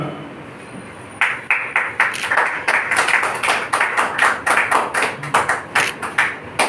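An audience at a Varanasi journalists' gathering breaks into loud applause after a short quiet lead-in, a group of hands clapping close by in a fairly even, rhythmic beat that keeps going to the end.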